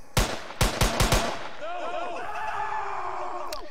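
Gunfire in an Unreal Engine 4 shooter template game: four or five sharp, loud close shots in quick succession, followed by a ringing, whistling decay of effects, with a voice speaking.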